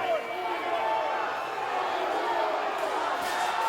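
Wrestling crowd at a Juggalo Championship Wrestling show jeering and shouting at a wrestler, a steady dense roar of many voices filling the arena throughout, with a commentator talking over it.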